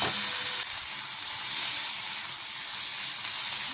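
Sweet corn kernels sizzle in a spoonful of butter in a kadhai over medium heat, giving a steady, close, bright hiss that runs unbroken throughout with no talking.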